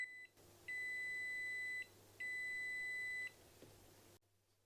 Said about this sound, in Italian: Ovviamente lo possiamo usare come cicalino